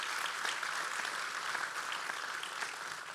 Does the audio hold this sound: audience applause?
yes